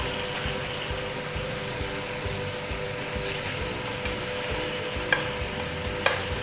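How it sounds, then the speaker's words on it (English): Tofu stir-frying in a pan coated with miso ginger sauce: a steady soft sizzle with rhythmic scraping and flipping strokes, plus two sharp clicks of a utensil near the end. "And then we're going to flip and stir fry them gently."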